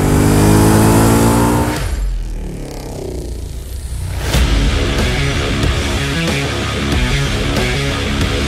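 A motorcycle engine fires up on the first try during a technical vehicle inspection, a loud startup roar followed by a brief dip, then a steady idle with a regular pulsing rhythm, close by and with no one talking.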